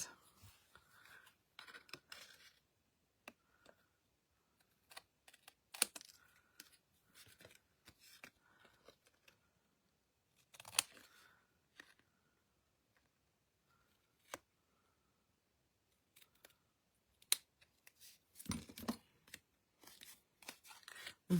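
Scissors snipping excess card stock during card making, delivering quiet, close, irregular cuts in short bursts separated by near silence.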